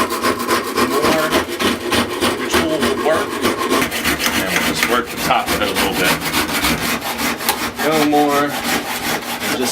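Long-handled carving tool gouging deep into a block of wood, a dense run of rapid, loud scraping and rasping strokes pushed hard to strip material fast, continuous and close up with no voices.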